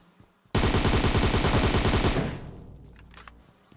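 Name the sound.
gunfire in PUBG Mobile video game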